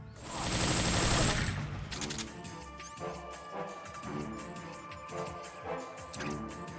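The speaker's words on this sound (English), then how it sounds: "Get the gun ready. Aim it at him. Shoot." Gunfire in the video game Metal Gear Solid 3 opens with a loud, dense roaring burst, then gives way to scattered sharper shots and impacts over game music, with no talking.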